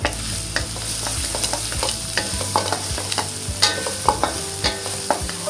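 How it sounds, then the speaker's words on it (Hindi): Garlic and ginger sauté in hot oil in a pan for kung pao chicken, sizzling continuously while a utensil stirs with frequent clicks and scrapes against the metal. "सौते करेंगे कि गार्लिक और जिंजर की खुशबू आने लगे।"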